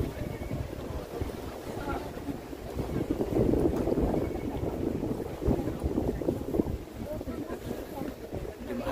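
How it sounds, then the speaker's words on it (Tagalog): Gusty wind buffets the microphone on Hungerford Bridge in London by the river, a low rumbling roar that swells and fades over several seconds. "Hangin."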